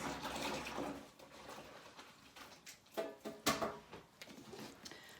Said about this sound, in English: So I'll just rinse my hands.